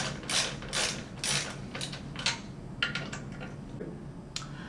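Handlebar bolts on a 2022 Honda Grom with an aftermarket bar being tightened, a series of sharp ratcheting clicks and metallic snaps in quick bursts that thin out toward the end, close and fairly quiet.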